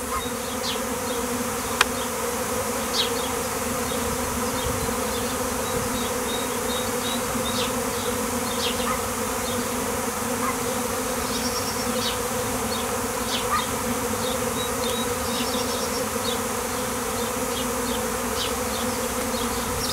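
A swarm of honeybees gathering in front of hives, hundreds settling on plants there, producing a dense, continuous buzzing drone with occasional individual bees zipping close past, steady and loud for the whole stretch.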